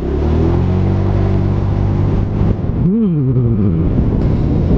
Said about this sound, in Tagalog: Yung tunog ng makina, gustong gusto. Ang sarap pakinggan eh.